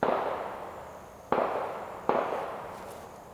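Hunting-season gunshots in open countryside: three sharp distant reports, each trailing into a long rolling echo, spaced about a second apart with no voices.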